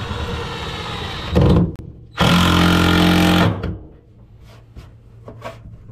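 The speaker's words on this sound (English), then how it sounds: "it's going to be tricky to drill the hole right in that corner" A power drill whirs loudly drilling a hole in a tight corner during an 85HP jet jon boat build, in two bursts, a short one then a longer sustained run, with quieter clatter between and afterward.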